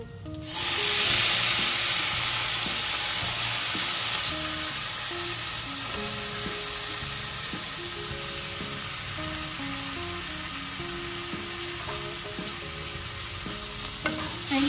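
Washed cluster beans (guar) cooking in a pan for a dry sabzi, giving a steady, strong frying hiss and sizzle that swells at the start and then holds level throughout, with occasional faint stirring clinks.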